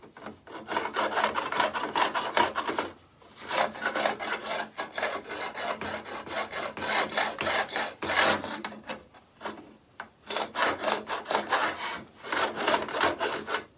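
A file rasping back and forth over beveled fret ends on a cigar box guitar, rounding them off in steady rhythmic strokes, close and scratchy, in long runs broken by short pauses.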